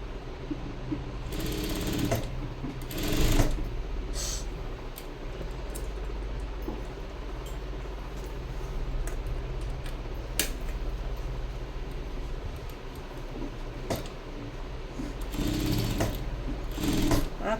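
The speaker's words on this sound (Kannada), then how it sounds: "ಮೊದಲು ಒಂದು ದೊಡ್ಡದಾಗಿ ಸ್ಟಿಚಿಂಗ್ ಅನ್ನೋದನ್ನ ಕೊಟ್ಕೋತೀನಿ." A sewing machine stitches fabric for a high neck blouse, a steady close rapid whirring run with a few sharper clacks and brief pauses, carrying on alone for the whole stretch.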